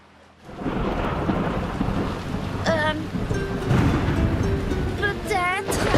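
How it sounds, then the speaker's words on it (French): Thunderstorm with rolling thunder and steady rain at sea aboard a boat, a loud continuous rumble with rain noise throughout, with voices speaking over it at moments. "est-ce que c'est une tempête juste là?"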